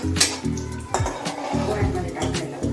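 Peanuts fry in oil in a pan for pohe, with clattering and scraping against the pan over a soft sizzle, close and fairly loud.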